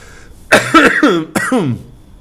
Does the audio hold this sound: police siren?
no